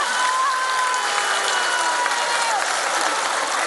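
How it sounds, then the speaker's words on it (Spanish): A large crowd at a public event in Mexico applauds continuously at an even level, with a faint tonal hum running underneath the clapping. "pido un aplauso para ellos y para ellas"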